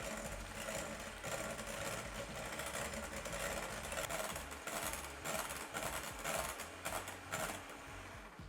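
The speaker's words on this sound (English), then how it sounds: "Grab your electric hand mixer, or you could use a stand mixer." Electric hand mixer whisking cream to stiff peaks, a continuous buzzing motor whir close up with rhythmic rattling pulses as the beaters knock the bowl, fairly quiet and uninterrupted.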